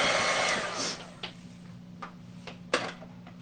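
A heat gun blows hot air close by while snowflakes are stenciled, a loud steady roar that cuts off about a second in, followed by quiet with a few sharp knocks and taps.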